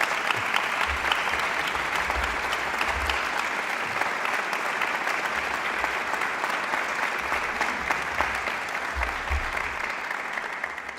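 A large crowd claps steadily and loudly for several seconds at a university commencement ceremony, a dense, continuous wash of applause with no voices standing out.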